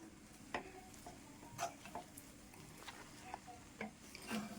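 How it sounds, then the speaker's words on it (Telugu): A dry fruit laddu mixture is stirred in a pan over the stove: soft, faint scraping and light crackle with scattered sharp clicks of the spoon, close and quiet, with no talking. "ఇలాగ మొత్తం మనం కలిపేసుకుందాం"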